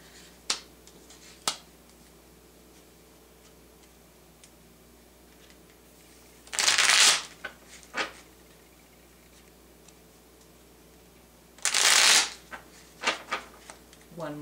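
Tarot cards are shuffled in two brief, crisp riffling bursts separated by quiet, with a few light taps and clicks in between.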